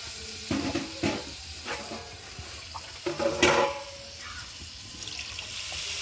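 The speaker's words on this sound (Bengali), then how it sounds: "এবার আমি জল দিয়ে দেবো" Water poured into a fish curry with cauliflower and potato, a splashing gush hitting the hot pan with bursts of sizzle and a few stirs and clinks, close up and with no talking.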